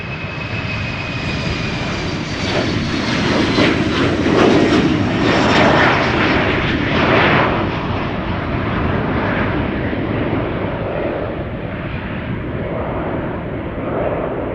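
A KLM Embraer 190 jet takes off at Schiphol Airport, its steady engine roar loud and sustained with a faint high whine, peaking midway and easing slightly toward the end, with no voices.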